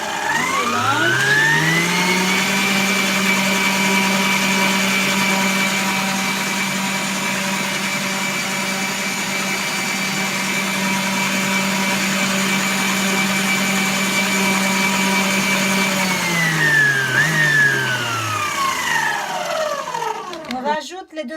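An electric mixer beats brioche dough with milk powder, salt and eggs, its motor whine rising to a steady, loud drone, holding for about fifteen seconds, then winding down near the end.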